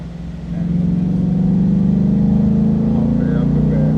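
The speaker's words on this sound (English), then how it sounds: "Then I can put it in my mode, which is the track exhaust." A 2018 Ford Mustang with a 5.0L V8, Da Silva Racing intake and tune, revs in track exhaust mode, rising to a loud, steady, throaty drone that holds close and sustained.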